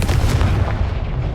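Explosion from the Confringo blasting spell in Hogwarts Legacy, a loud, deep rumbling blast with a heavy low-end roar that sustains across the whole moment.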